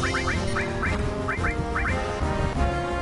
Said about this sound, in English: Oh, there's birds, man. These birds.